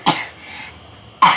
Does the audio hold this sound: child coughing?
yes